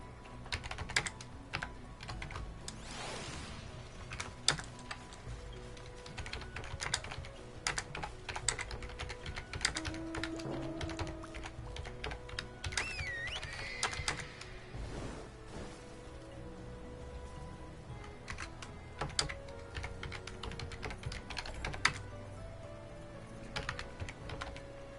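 Steady, moderately quick typing on a computer keyboard, close up, with irregular key clicks and occasional louder keystrokes continuing throughout without speech.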